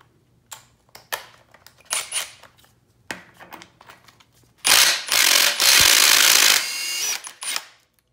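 A wrench loosening a 17 mm nut on the A-arm of a Yamaha YFZ450 quad: scattered metallic clicks and taps, then a loud, close, sustained powered grinding burst lasting a few seconds before stopping.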